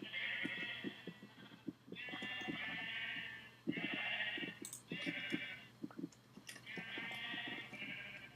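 Sheep in a Minecraft modpack bleat in a string of five or six drawn-out, nasal cries separated by short gaps, fairly loud and close, with no talking over them.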